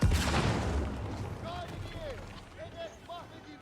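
Ottoman Great Bombard cannon firing in the Age of Empires IV video game, a loud boom at the start decaying into distant battle noise with small chirping game effects, while a commentator talks throughout.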